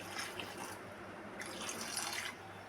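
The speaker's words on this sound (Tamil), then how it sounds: "கொஞ்சம் தண்ணி விட்டுக்கிறோம்" Water poured into a pan of diced potatoes, about half a kilo, a soft trickling splash that runs on quietly for a few seconds with no talk.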